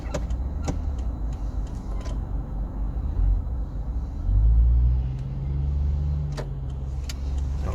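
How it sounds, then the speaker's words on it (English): Road traffic passing by outside a car at night, a low rumbling swell of vehicles going past with engine drone, steady background noise and a few faint clicks. "I'm gonna wait till the traffic clears a bit"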